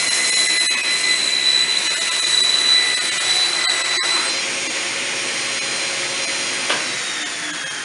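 A saw cutting a wooden tabletop to length runs as a loud, steady high-pitched whine that holds for most of the stretch, with the pitch shifting slightly partway through as the blade works through the board.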